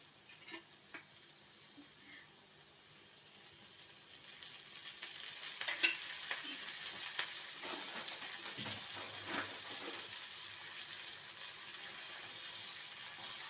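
Oil sizzles in a pan with tomatoes for a curry, a faint crackle that grows into a steady, brighter frying hiss, with a few soft stirring clinks.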